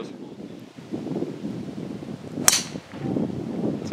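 Golf club striking a ball for a low stinger shot on an outdoor course: one sharp crack midway, rising briefly above steady wind noise and murmuring voices.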